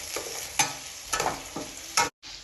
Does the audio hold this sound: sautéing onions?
yes